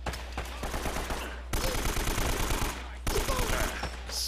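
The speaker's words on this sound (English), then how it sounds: "So I just AK him right in the fucking chest." AK rifle gunfire in the video game Uncharted: Drake's Fortune, loud rapid automatic bursts in three sustained runs separated by brief pauses, dominating the mix.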